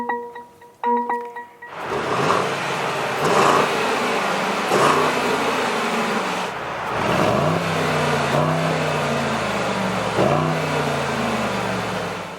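A 2021 Mercedes-AMG GLE 63 S 4MATIC SUV cranks and fires, its engine catching with a loud rev and then settling into a steady idle punctuated by several brief throttle blips, heard up close from inside the cabin.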